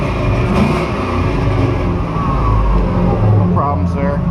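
An LS V8 engine idling cold in a 1952 Chevy, a loud, steady, rumbling drone close by that fills the whole clip with little change in level.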